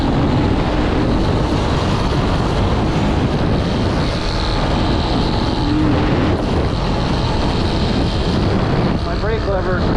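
A Honda ATC185S three-wheeler's engine droning loud and close while riding in third gear, a steady rough roar with wind buffeting and no break in the noise.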